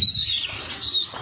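A Gerebaz pigeon released in the rain beats its wings in a quick, close flurry, with a few thin bird chirps over it and no voices.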